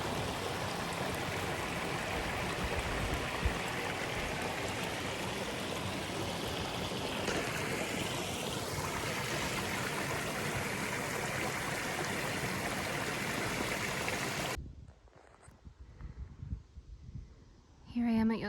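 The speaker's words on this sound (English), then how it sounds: "Yosemite Creek" Yosemite Creek flowing near Upper Yosemite Falls, a loud steady broadband rush of water that cuts off abruptly near the end, leaving quiet rustling and brief faint sounds.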